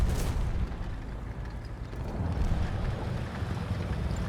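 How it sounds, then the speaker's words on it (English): Engine of an enemy vehicle in the War Thunder video game, a loud, steady low rumble that swells slightly and runs the whole stretch with no talk over it. "From that engine sound, I'm guessing it's something..."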